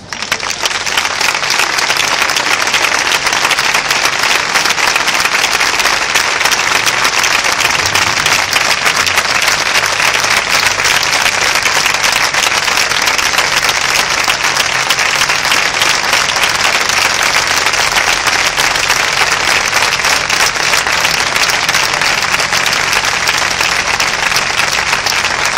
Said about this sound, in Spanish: ¿Aplaudirían ustedes conmigo otra vez a esta banda, por favor?